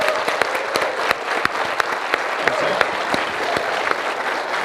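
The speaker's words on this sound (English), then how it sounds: "Round of applause for Mr. Pete Hines." An audience at a video game presentation event claps in sustained applause, many hands striking in a dense, steady patter at moderate loudness.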